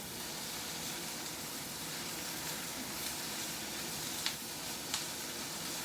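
Mushrooms stir-frying in a pan on high heat, a faint, even hiss of sizzling throughout with two small clicks near the end.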